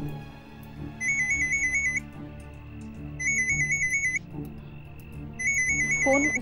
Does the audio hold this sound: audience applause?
no